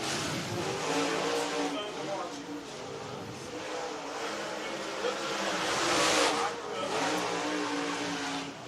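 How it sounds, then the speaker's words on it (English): Race cars circling the Lake Cumberland Speedway oval in Burnside, Kentucky at the green flag, a continuous roar of engines that swells and fades, heard under a track announcer's talk. "So both get the green flag from Will Dykes."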